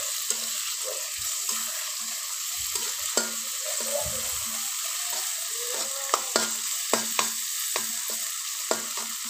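Dried loitta fish and garlic cloves being stirred in a hot pan, a steady sizzle of frying with repeated scraping and clinking of the spatula, close and loud with no voices.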